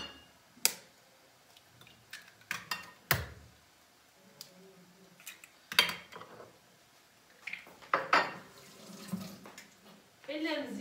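Tap water runs and splashes in a kitchen sink during hand washing while cooking, broken by clattering knocks and bursts of splashing at close range, with some background speech.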